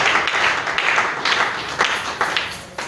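A church congregation applauds after a teaching, a dense burst of clapping from many hands that rises and falls and carries some scattered voices.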